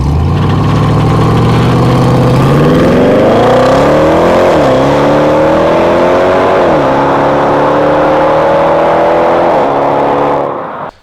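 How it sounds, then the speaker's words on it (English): A 2019 Range Rover Vogue P400e's big V8 engine idles with a deep rumble, then revs up in several rising sweeps and holds a loud, steady drone before cutting off at the end. "I will give you a clip of how that sounds now."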